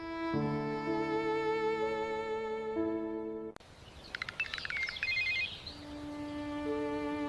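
A phone ringtone plays a repeating electronic melody, cuts out abruptly, then resumes after a burst of chirpy noise; nobody answers.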